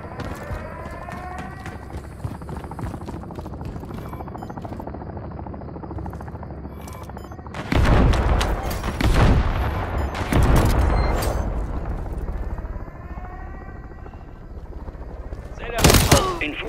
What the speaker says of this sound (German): Bodenluftgeschütz aktiv. Es braucht freie Sicht auf den Heli.